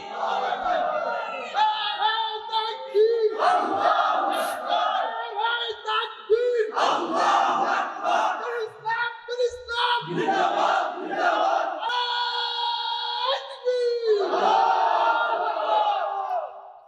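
A large crowd roars takbir chants in loud, sustained bursts, several long massed shouts rising and falling across the clip, with brief gaps between waves of voices.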